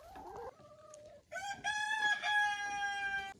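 A rooster crows loudly and close by, its long harmonic call following a few short clucks from the chickens of a farmyard flock.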